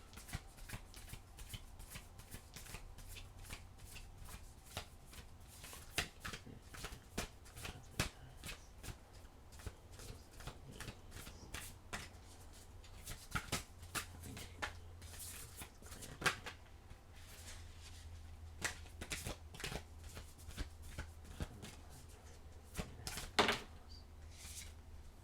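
Oracle cards are shuffled by hand in quiet, repeated bursts of soft riffling and slapping with small pauses between them, close and faint, and no one speaks.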